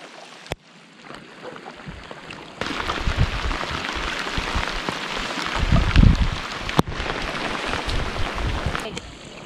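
Steady rain falling during a wilderness camping and white-water trip in a storm, a dense hiss that comes and goes in loudness, with some water and movement sounds in it.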